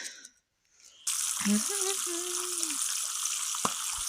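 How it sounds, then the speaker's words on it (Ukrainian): A steady, loud sizzle of crucian carp frying in a pan over an open fire starts abruptly and continues throughout, with a voice speaking briefly over the crackle. "ми рибу смажимо вже"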